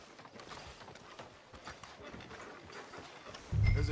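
Horse hooves clip-clopping in the Red Dead Redemption video game, a soft, steady run of hoof falls throughout, with a louder low thump near the end.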